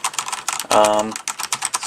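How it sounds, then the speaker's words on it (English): Typing on a backlit Logitech G710 Plus mechanical keyboard with Cherry MX Brown switches, a quick run of close, crisp key clacks with a brief voice or tone passing partway through. "Keyboard is the Logitech G710 Plus, backlit, Cherry MX Brown switches"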